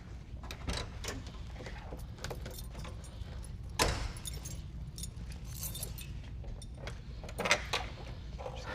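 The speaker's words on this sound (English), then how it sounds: "So let me just grab the keys." Keys jangle in a few short metallic bursts, grabbed near a 1970–71 Honda Z600 in a garage, with faint handling clatter around them and no talking.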